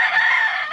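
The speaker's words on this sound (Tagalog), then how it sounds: "Yan yung mga ating sisiw." Baby chicks peep in a short, high-pitched burst of overlapping chirps, close and fairly loud.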